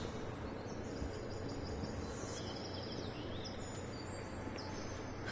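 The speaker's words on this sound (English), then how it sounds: "got the happy birds chirping" Cheerful birdsong chirps in the video game The Town of Light, a creepy abandoned asylum setting, with thin high tweets scattered over a steady hiss of ambient background noise.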